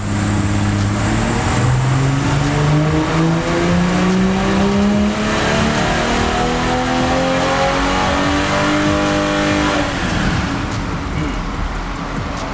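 A BMW G20 M340 pulls hard in fourth gear on a chassis dyno, its engine note climbing steadily and loudly for about ten seconds before easing off, with no pause in the drone.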